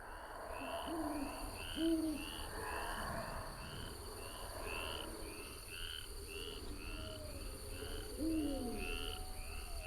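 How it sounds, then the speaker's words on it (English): Frogs croak in a swamp in The Witcher video game, a regular, pulsing chorus of calls at moderate distance over a faint insect hum, with a few deeper croaks and hoot-like calls mixed in. "Oh, the frogs."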